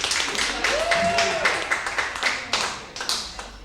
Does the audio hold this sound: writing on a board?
no